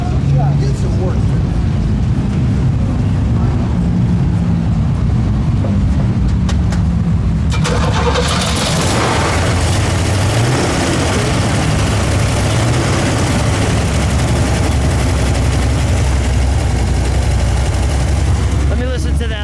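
A 1962 Pontiac Catalina with a 421 V8 idles with a loud, steady, deep rumble that swells noticeably partway through, and people talk over the engine noise.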